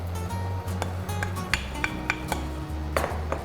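A utensil stirs braised hijiki with pork and fried tofu in a pot, giving light scraping and clinking taps spread over a few seconds above a low steady hum.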